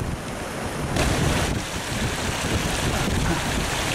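Sea waves blown over a seawall by strong wind, a loud continuous roar of surf and gusting wind buffeting the microphone, with a surge swelling up partway through.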